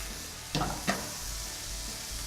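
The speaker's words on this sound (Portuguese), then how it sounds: "Vou deglaçar o fundo da frigideira com um pouquinho de água" Water hits a hot frying pan to deglaze it, bursting into a steady sizzling hiss with two brief louder spits, close and continuous with no talking.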